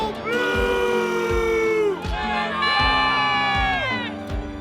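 A large home stadium crowd at a Winnipeg Blue Bombers Banjo Bowl football game in 2023 cheers and whoops loudly, with sweeping tones and rhythmic thumps rising and falling beneath the roar.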